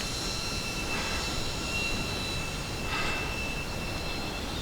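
A Star Wars TIE Fighter toy drone flying at full throttle gives a dense, steady whirring buzz of small propellers with a high tonal whine, loud and continuous, swelling slightly as it turns.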